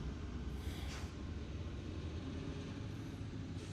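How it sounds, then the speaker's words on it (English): A garbage truck drives past on a neighborhood street, heard as a steady low rumble filling the whole moment, with faint hissy bursts above it and no voices. "Garbage truck is coming."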